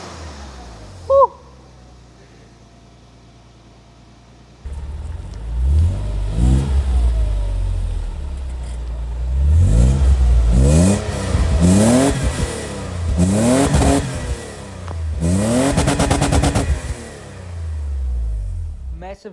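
A Toyota Hilux with an aftermarket exhaust starts up and revs repeatedly, rising and falling in loud throaty bursts with a deep exhaust rumble, close by.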